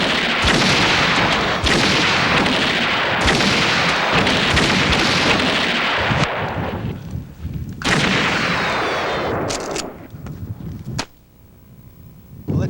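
Shotgun blasts from skeet shooting with a small birdshot load at the 1994 Burning Man festival in Black Rock City, Nevada: loud, close booming reports in quick succession, fading toward the end.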